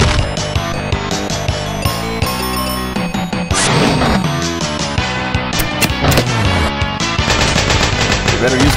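Rapid bursts of bomb explosions from the game Mystic Quest Remastered crackle loudly and continuously over dense game music, with no break in the barrage.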